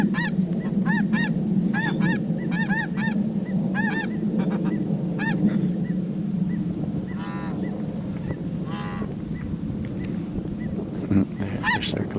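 Snow geese circling low over decoys on spring water give a flurry of honks and yelps over a constant low rumble, the calls thinning and spreading out as the flock passes.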